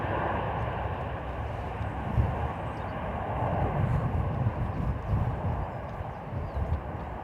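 A Ryanair airliner landing in a crosswind at Dublin Airport gives off a steady, broad jet roar that swells slightly and holds throughout, heard from a spotting position at moderate distance.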